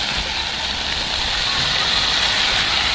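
Potatoes going into hot oil and a cooked-down spice paste for an egg curry give a steady, loud broadband sizzle, even and continuous throughout with no talking.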